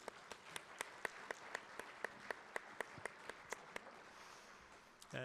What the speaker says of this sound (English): just want to give them a round of applause